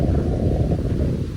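Strong wind buffets the microphone at Station 1 on a Boracay beach, a steady loud low roar of gusting noise filling the whole clip with no talk.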